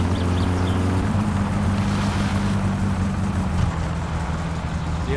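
Van engine in My Summer Car driving along a road: a loud, steady droning engine hum with a rising and shifting pitch as it accelerates, no voices.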